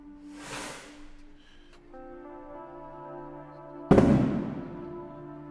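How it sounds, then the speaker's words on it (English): Fireworks burst outside a window, two muffled whooshing pops a few seconds apart, the second sharper and louder, over faint indoor background music. "Oh, don't tell me we're going to have fireworks and I will have to close my window."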